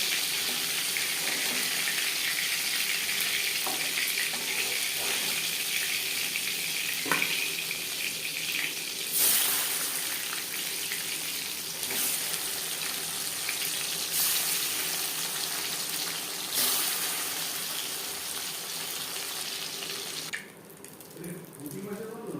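Hilsa fish pieces frying in hot oil in a pan give a steady, close hiss of sizzling, broken by a few soft clinks and pops. A brief quieter stretch comes near the end.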